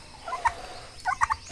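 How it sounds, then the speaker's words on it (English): Farm turkeys gobble in short, warbling bursts, a single call followed by a quick cluster of several, heard fairly close against a quiet background. "you've got the turkeys, you've got birds"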